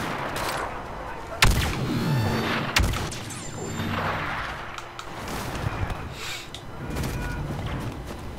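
Gunfire in a Star Wars Battlefront 2 match, with a loud sharp shot near 1.4 s and another near 2.8 s over busy battle noise and scattered distant blasts.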